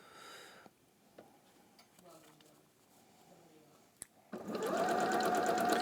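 A sewing machine stitches a seam in a sewing project, its motor running briefly at first and then again loudly and steadily toward the end, with quiet handling and faint clicks in between.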